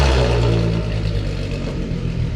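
A Volkswagen Golf R32 with a straight-piped exhaust starts for the first time, its engine running loud and steady at close range with low, rumbling harmonics and no voices.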